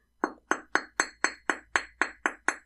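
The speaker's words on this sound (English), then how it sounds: "I'm just going to gently hammer that wire along." A hammer gently flattens and textures wire for a wire-wrapped ring shank, giving ten evenly spaced metallic taps at a steady rhythm, close and moderately loud with no talking.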